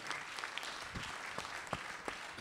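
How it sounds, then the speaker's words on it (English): Clapping from a small group on a live radio talk show, a brief, faint patter of hands with a few sharper claps standing out. "let's clap it up."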